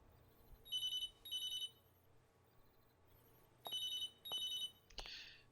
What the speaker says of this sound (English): I need to answer the phone